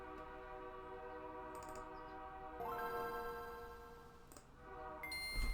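A train in the Lizzie McGuire Game Boy Advance game gives off a steady electronic rumble and horn-like held tones, which shift in pitch partway through, with no voices.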